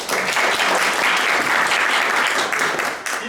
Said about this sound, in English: like everyone started clapping